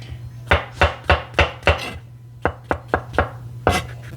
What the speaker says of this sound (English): Now we're just gonna cut up our mushrooms